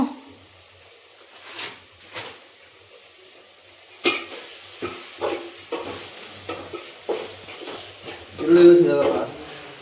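Food fries in a pan at home while being stirred, with scattered scrapes and clanks of a utensil on cookware and a soft sizzle, interleaved with people chatting nearby.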